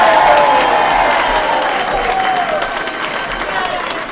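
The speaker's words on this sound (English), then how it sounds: "Let's give her a big round of applause." A crowd claps steadily and densely throughout, with a faint tonal hum running underneath the applause.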